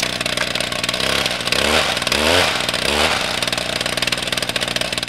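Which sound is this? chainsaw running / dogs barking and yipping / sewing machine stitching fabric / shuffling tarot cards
chainsaw running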